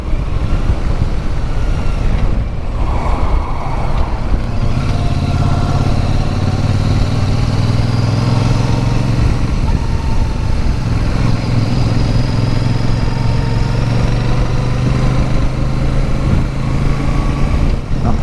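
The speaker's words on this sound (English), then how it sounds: "Hoping you can hear the sound of this beautiful engine and exhaust note on this here Super Meteor." A Royal Enfield Super Meteor 650 motorcycle idles with a deep, steady exhaust rumble that swells slightly as it revs, close and loud throughout with no talking.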